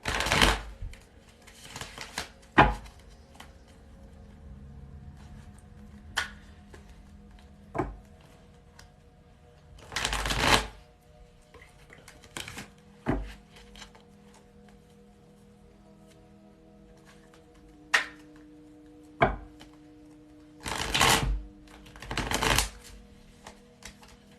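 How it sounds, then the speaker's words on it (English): A tarot card deck shuffled by hand in bursts of riffling and soft card slaps separated by quiet gaps, close up with no voices. "So we'll shuffle the deck and clear the energy."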